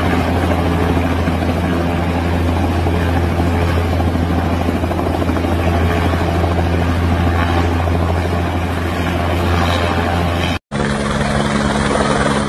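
A yellow helicopter's rotor and engine drone loudly and steadily, close by, as it skids on ice, with a brief cut near the end before the roar resumes.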